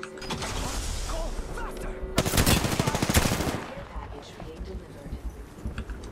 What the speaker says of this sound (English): he's getting shot by someone else now